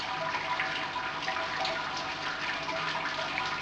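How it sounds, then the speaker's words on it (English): Fresh water trickles and drains through the grain mash during a home beer brew day. The flow is a steady broadband rush that stays close and even throughout, with no voices. "That's fresh water just dropping through."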